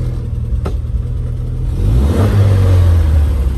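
A 1500 MG Midget engine idles steadily, then takes a quick blip of the throttle that lifts into a louder, rising rev and holds there, close by. A single click comes early on.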